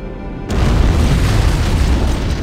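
A heavy antimatter-charge explosion aboard the ship Pillar of Autumn in the video game Halo: Combat Evolved booms suddenly and rolls on as a loud, sustained rumble with no voices over it.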